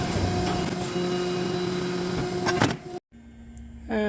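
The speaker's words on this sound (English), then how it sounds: "now I'll run it through the rollers to give it an oval shape" Steel pipe being run through a set of metal rollers to bend it into an oval shape, a steady mechanical whirring and grinding drone that cuts off abruptly, then briefly resumes.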